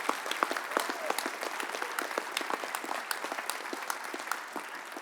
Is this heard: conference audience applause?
yes